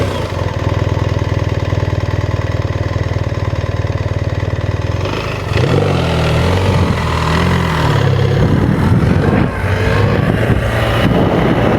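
A BMW R1300GS adventure motorcycle idles loud and close, then its engine note wavers and rises slightly as the clutch is slipped at walking pace, a low steady rumble throughout.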